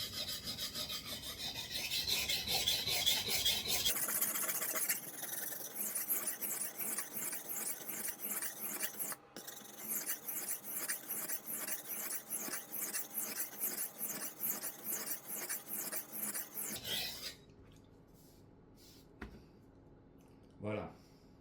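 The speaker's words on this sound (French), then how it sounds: "vous entendez la pierre." A seven-inch Schrade knife is drawn across a whetstone in steady back-and-forth strokes, loud and close, a continuous rasping rhythm with a brief break midway before the strokes thin out near the end.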